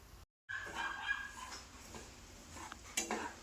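Rava being stirred and roasted in a pan for uppittu, a soft, faint scraping and rustling of dry semolina against metal that continues steadily after a brief silent gap.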